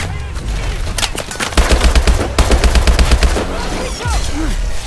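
Video game gunfire crackles in rapid automatic bursts that swell to a dense, loud volley midway, then thins out into lingering whooshes and effects.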